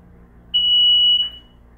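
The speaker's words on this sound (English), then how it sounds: "that's a loud beep." A single loud, high-pitched electronic beep inside an elevator sounds for under a second against quiet background hum, then cuts off.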